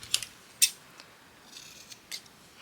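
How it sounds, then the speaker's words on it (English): Scissors snipping out wire-backed craft shapes, a handful of quiet, crisp snips spaced irregularly with faint paper rustle between, close and alone with no talking. "So we'll just cut all of these out"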